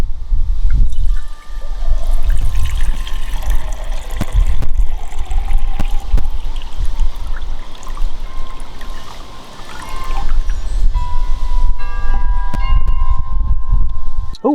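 500 ml of water pours from a Nalgene bottle into a Snow Peak titanium French press, a loud, close, continuous gurgling trickle that runs steadily for several seconds before tapering off.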